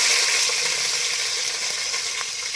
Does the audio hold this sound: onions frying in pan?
yes